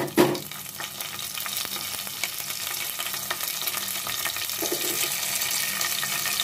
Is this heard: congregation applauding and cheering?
no